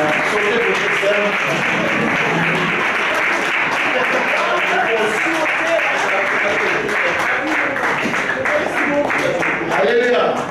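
Church congregation applauding the Lord during a Congolese gathering in Huy, Belgium; sustained, dense clapping fills the whole stretch at steady loudness, mixed with voices and cheering.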